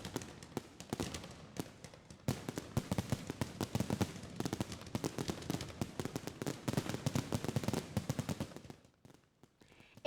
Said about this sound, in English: The city of Torrance held its official fireworks show last night